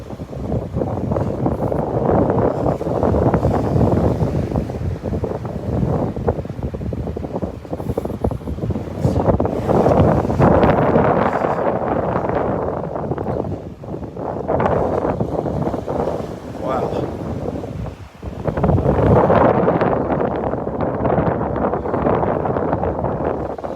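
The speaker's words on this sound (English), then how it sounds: "Walking into the wind. Very brisk, nice wind blowing." Strong, brisk wind buffets the microphone on an open beach at Delnor-Wiggins, a continuous loud rushing roar with gusty swells and brief dips, no voices.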